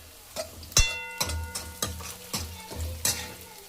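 Onion and garlic frying in a pan, with repeated stirring scrapes and bursts of sizzle recurring roughly every half second over a steady hiss, close and moderately loud, no talking.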